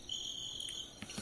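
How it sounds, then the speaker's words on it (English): A cricket chirps in a quick, shrill, continuous trill as a short inserted sound effect on a comedy podcast, close and clear with no talking over it. "And crickets. We can cricket that up."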